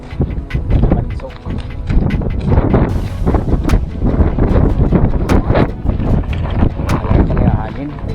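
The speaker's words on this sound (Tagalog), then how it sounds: "Today is very windy." Strong wind buffets the microphone in constant gusty blasts and low rumbles, loud and close, with voices mixed in underneath, on a motorcycle ride in Barangay Barcelonita, Cabusao, Camarines Sur.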